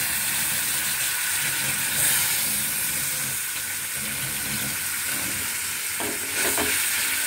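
Fish roe curry sizzling in a pan as water is sprinkled in, a dense continuous hiss and crackle, close and steady, with slight swells where the splash hits.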